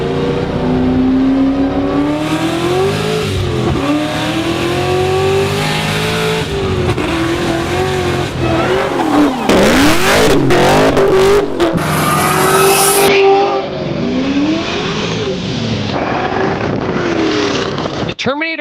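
A supercharged four-valve V8 in a Ford Mustang Terminator Cobra, built to about 900 horsepower, roars loud and close, climbing and falling through repeated revs and shifts with a steady, sustained engine note throughout.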